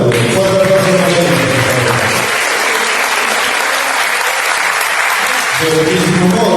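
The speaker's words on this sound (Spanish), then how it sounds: "Fuerte aplauso" Loud, close applause from an audience at a presentation on ancestral cooking, with a steady wash of clapping throughout. A speaker's voice carries over it at the start and again near the end.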